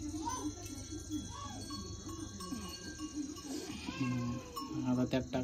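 A cat meows several times near a village kitchen, clear, close cries over low background noise and some voices, with a light jingle toward the end.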